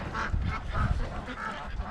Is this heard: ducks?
yes